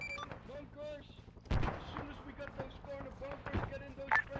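Gunfire aimed at a bunker system during an assault on Hill 426 in a war video game, sharp shots cracking out at intervals over a background of radio-style voices.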